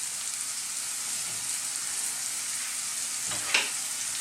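Vegetables seasoned with oregano, salt and pepper sizzle gently in a pan for cannelloni filling, a soft continuous frying hiss with a faint clink near the end and no talking.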